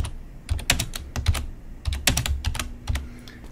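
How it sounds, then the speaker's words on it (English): Rapid bursts of typing on a computer keyboard as an author's surname is entered into a form field, clustered clacky keystrokes in quick groups with brief pauses, close and fairly loud, no talking. "So let me just type in Smith."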